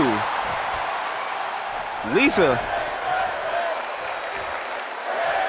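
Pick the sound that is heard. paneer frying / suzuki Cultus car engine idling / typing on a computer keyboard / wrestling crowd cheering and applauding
wrestling crowd cheering and applauding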